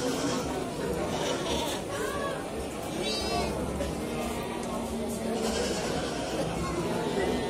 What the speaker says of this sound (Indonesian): Terdapat cukup banyak domba merino di tempat ini